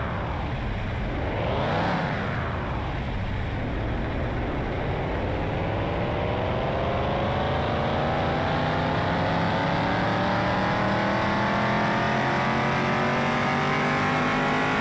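A police-car build in Car Mechanic Simulator 2021, tuned with performance mods, revs on a dyno: the engine climbs steadily through its range, loud and close, rising in pitch with no talking.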